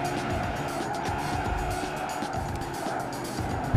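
A car in the Gran Turismo 5 racing game slides through an S-bend, its engine droning steadily with tire squeal and skidding over the whole stretch. A faint bump comes at the end.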